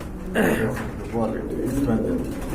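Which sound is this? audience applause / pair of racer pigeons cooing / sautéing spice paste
pair of racer pigeons cooing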